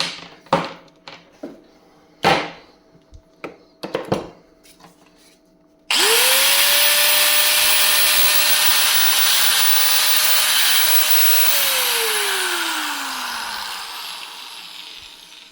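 A repaired angle grinder switched on after several handling knocks and clicks: its motor spins up to a loud, steady high-pitched whine that holds for several seconds, then the pitch falls away slowly as it winds down.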